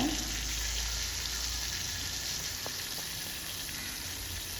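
Rice with asafoetida and spices fries in hot oil in a pan, giving a soft, continuous close sizzle with no talking.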